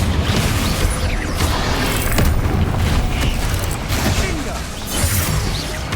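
A Confringo fire spell explodes in the video game Hogwarts Legacy, a dense, loud roaring blast that is sustained and rumbling, with other spell effects layered in.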